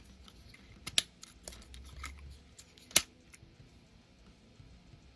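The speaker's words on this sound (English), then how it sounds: "And just click them into place." Plastic parts of a Transformers Studio Series 86 Ultra Magnus toy click into place in two sharp, close snaps a couple of seconds apart, with faint handling rustle between them.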